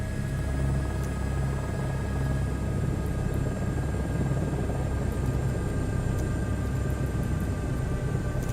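An H125 helicopter in a flight simulator game throttles down, giving a steady, loud engine and rotor drone with low rumble and a constant whine that holds throughout with no talking.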